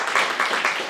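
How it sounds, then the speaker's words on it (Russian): Applause from the audience at a musical and poetry evening, heard as a short, steady wash of clapping. "Пожалуйста, Евгений, еще аплодисменты."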